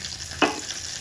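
Chopped tomato pieces cook in oil for a tomato pickle, giving a soft, steady sizzle, and a single brief clack of a spoon or lid stands out partway through.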